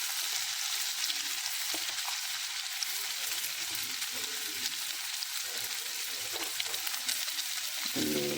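Sliced cucumber sizzling steadily in a hot pan after turmeric goes in, a continuous close crackling fry with occasional light stirring and no voices.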